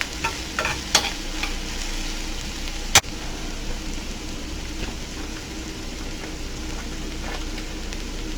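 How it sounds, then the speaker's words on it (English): Onions and celery sautéing in butter in a pan, made for keto cornbread dressing: a steady close sizzle runs throughout, with a few sharp utensil clicks and one loud tap near the middle, and no voices. "onions and celery cook until they start getting translucent"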